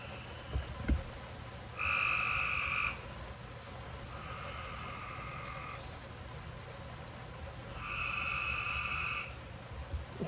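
Frogs croak in a few long, evenly pulsing trills, each lasting about a second before stopping, faint and somewhat distant over a low background hum, with a single sharp knock near the start.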